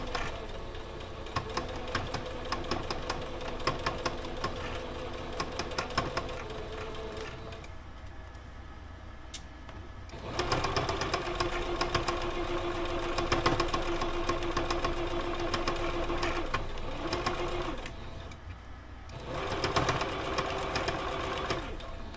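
A sewing machine stitches a sequin seam in long runs of rapid rhythmic needle chatter, stopping for short pauses in between, close by and steady, with a voice speaking now and then over it.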